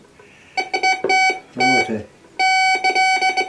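A GTX 4030 metal detector held over an iron stool beneath a table gives repeated short, shrill electronic beeps in quick bursts, close and loud, with a brief word spoken between them.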